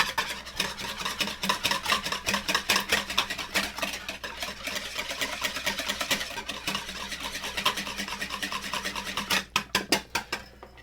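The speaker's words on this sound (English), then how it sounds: "I just want to give that egg a good whisking." A whisk beats an egg in a bowl for cake batter, a fast, steady scraping rhythm that runs throughout, close and loud, with no talking.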